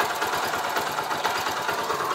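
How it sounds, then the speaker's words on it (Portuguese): A Yamaha Factor 125 motorcycle idles close by with a steady, rapid thumping pulse, an even low mechanical beat with no talk over it. "Olha o batidinho do motor pra vocês sentirem"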